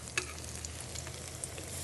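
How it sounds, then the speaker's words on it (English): A soft, steady crackling sizzle of chicken cutlets frying in olive oil, faint and continuous with small pops scattered throughout. "Oh, look at that sizzle."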